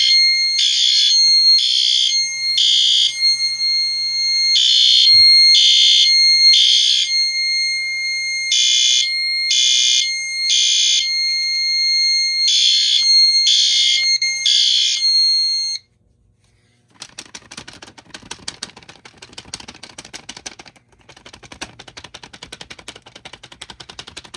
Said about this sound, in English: There's a chance it might go back into alarm because usually it takes a couple of tries to completely fan the smoke away.